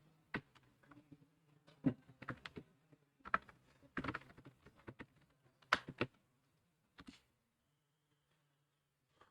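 Keys clatter on a computer keyboard while C++ code is typed, in scattered quick bursts of close, crisp clicks separated by pauses, falling silent toward the end.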